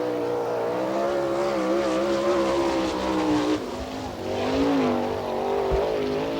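A 305 sprint car with a Hinchcraft chassis and Griff motor roars through a qualifying lap at a dirt oval, its engine note rising and falling steadily as it circles, loud and continuous.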